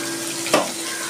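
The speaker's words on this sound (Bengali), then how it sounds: "মাছ আমার ভাজা হয়ে গেছে" Small fish fry in hot oil with a steady, close hiss. A brief louder sputter breaks in midway, and there is no talking.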